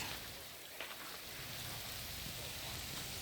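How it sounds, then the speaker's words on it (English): Steady rain falls across a Japanese garden, a dense, even hiss of drops on foliage and surfaces with a faint patter, heard alone at moderate distance without talking. "It rains."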